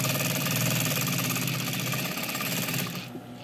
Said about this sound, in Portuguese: Eu passei a costura só pra não perder o paninho.